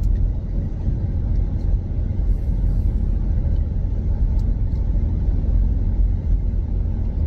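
A car drives through the 1,471-metre two-way Omiš road tunnel, giving a steady, enclosed low rumble of engine and tyre noise that holds constant and fairly loud throughout.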